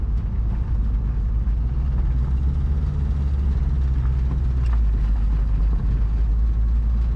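The engine of a teenager's first car drones steadily while driving, a constant low rumble heard from inside the cabin without any pause.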